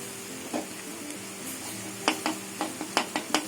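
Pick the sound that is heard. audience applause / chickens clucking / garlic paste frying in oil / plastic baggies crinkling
garlic paste frying in oil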